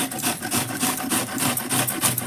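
Cassava root being grated for adai batter, a steady rasping scrape repeated in regular back-and-forth strokes, loud and close with no talking.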